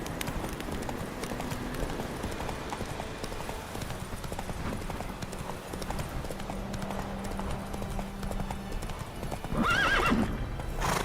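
Hoofbeats of a horse galloping in The Witcher 3 video game, a steady clip-clop rhythm across the whole stretch with a neigh near the end, set against game ambience.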